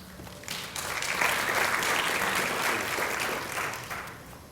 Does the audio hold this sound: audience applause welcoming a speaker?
yes